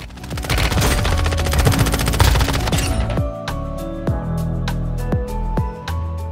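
SMG fire in the mobile game Warzone Mobile: a long rapid automatic burst that ends abruptly, followed by several separate single shots with spaced gaps, loud and close.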